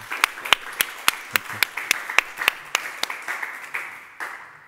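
Applause welcoming a guest at a literary reading, a fairly sparse crowd of claps at moderate volume that gradually thins and fades out, with a brief spoken thank-you near the end.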